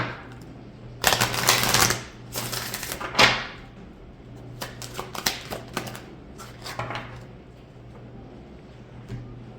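Oracle cards are shuffled up close, bursts of riffling and flicking paper with loud slaps early on, then lighter scattered card taps and slides over a low steady hum.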